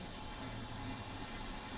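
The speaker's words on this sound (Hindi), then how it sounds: "अब हम इसमें हमें पानी डाला है 1/2 कप" Water, half a cup, poured into a pan of chicken masala cooking on the stove, a steady broadband gushing and sizzling wash that holds evenly loud for the whole stretch, with no talking over it.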